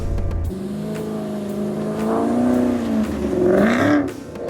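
A car engine accelerates with its clutch no longer slipping, its pitch climbing through gears in a rising, revving drone that swells louder toward the end, with no talking.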